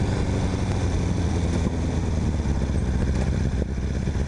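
A Kawasaki motorcycle's engine drones with a heavy, continuous low rumble as it rides through a city center, the steady engine noise dominating close up with a couple of brief dips and no talking.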